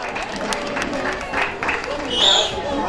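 Audience clapping at a small-town festival pageant, steady moderate applause with crowd murmur and background chatter throughout.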